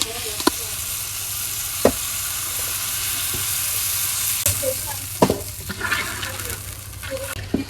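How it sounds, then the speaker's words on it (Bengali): Spice paste of turmeric, chili powder and salt cooks in a pan for a fish curry as water goes in, giving a loud, steady sizzle with occasional clinks of stirring. "মশলা কষাই নিচ্ছি আমি একটু পানি দিয়ে দিই"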